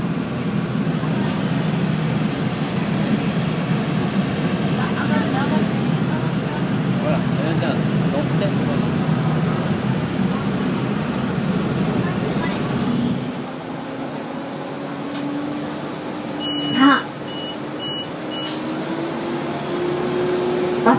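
Engine of the amphibious KABA bus cruising on Lake Yamanaka, a steady low droning rumble with broadband wash; midway the sound drops and shifts to a quieter engine tone with a rising whine, under occasional background voices.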